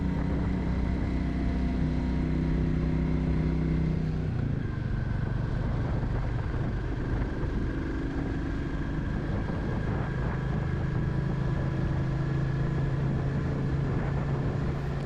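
A Royal Enfield Classic 350 motorcycle on a night ride sends out a steady, loud single-cylinder engine drone with wind rush, shifting pitch partway through as the rider changes speed.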